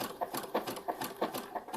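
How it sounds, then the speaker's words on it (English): A sewing machine stitches the bottom point of a V neckline on a gala gown. It runs with a soft, steady, rhythmic mechanical whir and clatter at close range, with no talking. "So I'm only sewing the very bottom of the V on my sewing machine"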